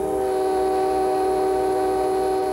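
A Grand Rapids Eastern train engine heading east through Grand Rapids sounds a long, steady, loud horn that holds one sustained chord from start to end.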